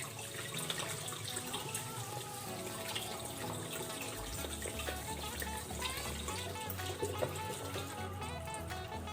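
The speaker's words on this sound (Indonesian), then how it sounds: "Setelah itu kita bersihkan menggunakan air." Water runs steadily from a tap as benthos samples are rinsed, a continuous close splashing flow with faint drips and no talking.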